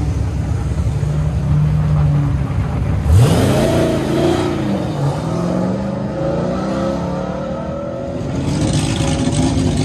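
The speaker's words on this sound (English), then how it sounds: "Greg Thurman in the good-looking orange Corvette. 65 Corvette Langenfelter LS7." Orange 1965 Corvette with a Lingenfelter LS7 V8 roars through an autocross course, revving hard with sweeping rises and drops in pitch as it accelerates and passes close by.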